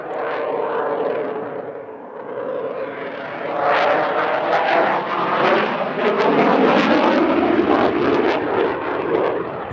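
A jet fighter powered by two Snecma M88 engines roars overhead at an airshow, a loud, continuous rushing thunder that swells and surges as it climbs into a loop.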